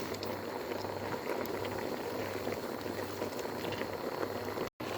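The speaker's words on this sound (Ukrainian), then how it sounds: "Груші тушаться вже 10 хвилинок." Pears stewing in their own juice for apple-pear jam over high heat, giving a steady, continuous bubbling simmer close by with a low hum underneath and no talking.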